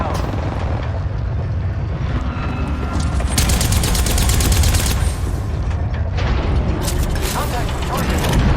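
Video game gunfire crackles in bursts over a steady low rumble of explosions and mechanical noise, with volleys peaking mid-clip and again near the end, loud and continuous throughout.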